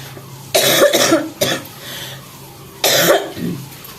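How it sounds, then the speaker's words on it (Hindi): A person with a persistent two-month cough coughs in three harsh, loud bursts, close to the listener, with quiet pauses between them. "ये खांसी मुझे 2 महीने से लगातार आ रही है, बहुत ज़्यादा परेशान कर रखी है"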